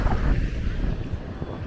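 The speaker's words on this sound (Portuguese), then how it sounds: "nessa ventania, esse mar agitado que tá tendo aqui" Strong wind buffets the microphone on a beach boardwalk beside a rough sea, a loud, steady low roar with gusty fluctuations throughout.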